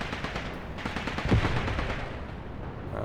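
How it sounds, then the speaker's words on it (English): Battle in the Graviteam Tactics video game, with dense gunfire and grenade blasts rattling continuously and one heavier explosion near the middle, loud and without talk. "Enemy infantry is throwing grenades, of course."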